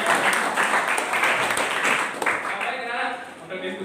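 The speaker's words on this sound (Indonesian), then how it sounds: "Kalian kita berikan tepuk tangan." Students in a classroom applaud a group after its presentation, steady dense clapping that fades toward the end as voices begin to talk over it.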